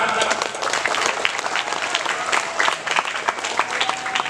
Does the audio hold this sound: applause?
yes